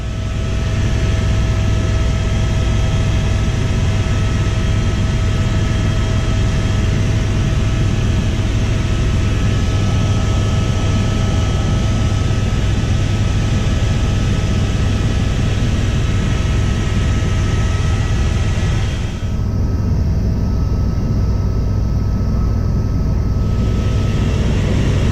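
An Airbus EC130T2 helicopter lifts off from an airport ramp, heard from inside the cabin as a loud, steady engine and rotor roar with constant whine, no voices over it.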